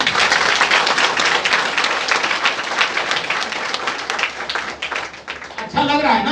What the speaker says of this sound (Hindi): तो एक बार सीरियम के लिए अपने लिए ताली बजेगी।